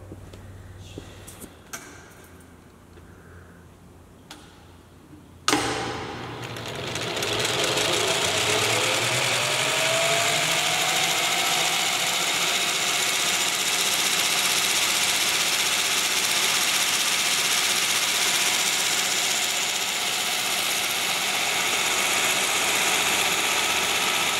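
Electric motor in a large stationary steam engine building, starting after a few faint clicks with a sudden thump, then spinning up into a steady, loud, even hum and whine that runs on without a break.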